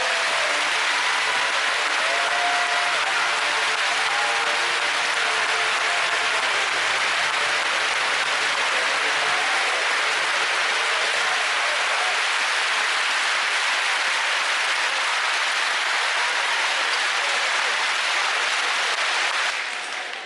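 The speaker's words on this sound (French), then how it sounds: "je vous demande à toutes les deux de les applaudir et de les remercier pour leur engagement" An audience applauds at a farewell tribute ceremony, with dense, sustained clapping from a large crowd running loud and unbroken for about twenty seconds before starting to fade right at the end.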